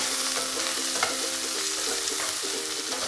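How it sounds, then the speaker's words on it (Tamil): Chopped onion and green chili sautéing in hot oil in a pan for potato bonda, a steady close sizzle with repeated scraping strokes of a spatula stirring through it. "வெங்காயம், பச்சை மிளகாய் ரெண்டையும் சேர்த்து போட்டு அதோட வதக்கிடுங்க"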